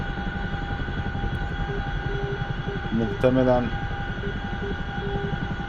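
CH-47 Chinook tandem-rotor helicopter flying in the DCS combat flight simulator, a steady droning engine and rotor hum running throughout beneath continuous talk.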